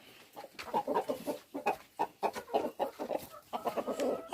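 Backyard hens and roosters on a small farm cluck in repeated short bursts close by, the calls coming in an uneven, busy rhythm with no talking over them.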